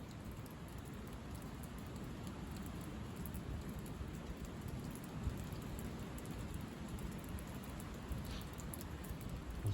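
Steady spring rain shower pours down outdoors, a dense, even patter of drops on surfaces that stays constant and moderately near throughout, with no voices.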